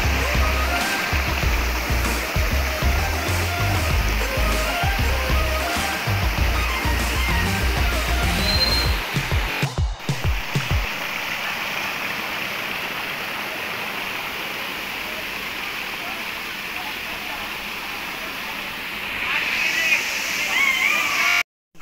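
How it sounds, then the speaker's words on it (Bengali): Hadhadwa waterfall near Gaya, a steady broadband rush of falling and flowing water that stays constant and fairly close throughout, with a brief dip partway through. "এখানে এমনি একটা ওয়াটারফল আছে"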